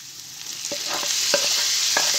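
Finely chopped tomatoes are stirred into a frying pan for egg masala Maggi, with steady loud sizzling and several scraping spatula strokes, close with no talk.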